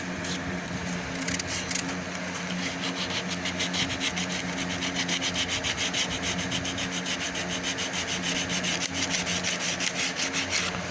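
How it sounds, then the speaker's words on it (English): Hand sanding of a car body panel with 80 grit sandpaper, a rapid rhythmic scratching of back-and-forth strokes, close and steady throughout. "gonna sand it out with 80 by hand"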